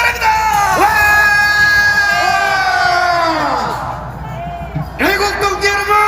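Large rally crowd shouting and cheering in a sustained roar, loud and close, with rising whoops and yells layered over the mass of voices.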